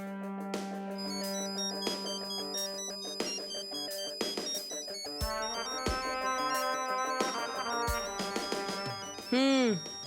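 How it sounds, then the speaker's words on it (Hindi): An electronic phone ringtone plays a bright, repeating melody at steady volume, continuing for several seconds before a short warbling tone at the end. "लो, तुम्हारी मैडम का फोन है।"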